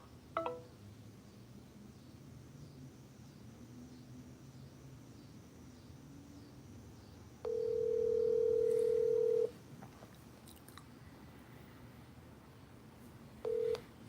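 A steady telephone tone sounds for about two seconds, with a brief beep near the end and a short click at the start, over a faint hiss on a phone line.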